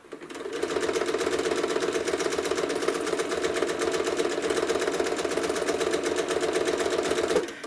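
A sewing machine runs steadily, stitching quilted feathers around a circle, its rapid even needle chatter continuous and close for the whole stretch with no voices.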